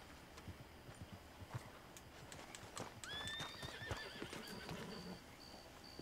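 A horse whinnies in a rising, drawn-out call over rhythmic clip-clop of hooves, with a few sharp clicks, in the video game Red Dead Redemption 2.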